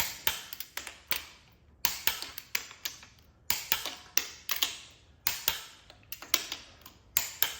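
A wrench ratchets while tightening cylinder head bolts on a Land Rover 4.2L V8, making crisp, close clicks in quick bursts separated by short pauses.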